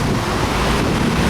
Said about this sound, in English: for anyone who's kind of disturbed by the wind sound, this might not be the best video to watch